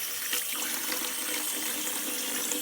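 Freshly dug dandelion roots are rinsed under running water, with a continuous splashing, tap-like flow and small bursts of spatter as they are handled.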